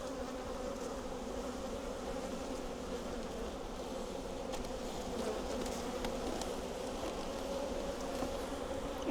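Honey bees buzz in a dense, steady drone around an open hive, a continuous close swarm hum with no voices.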